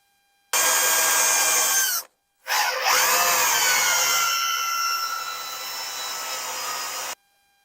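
Tapping screw threads into holes during a mod fitting a Mac mini inside a 27-inch iMac: a steady, loud power-tool whir that briefly cuts out and restarts, then grinds on with a slowly falling pitch before stopping, no voices.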